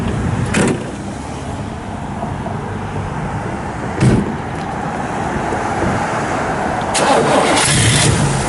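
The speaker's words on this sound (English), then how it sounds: "Thing fires right up." A 1965 Chevrolet Impala convertible engine with dual exhaust cranks and catches, then settles into a steady rumbling idle, loud and close, with no one speaking.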